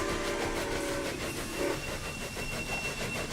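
Trains in the video game Railway Empire, a steady rolling rail rumble with clickety-clack and brief whistle-like tones, continuous and moderately loud throughout.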